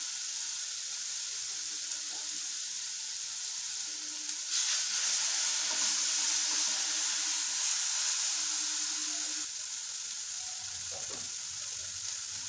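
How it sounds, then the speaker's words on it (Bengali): Ingredients for mango posto sautéing in a pan: a steady, close hiss of frying oil throughout, with faint clinks and stirring sounds underneath. "একটু সাঁতলানো হোক।"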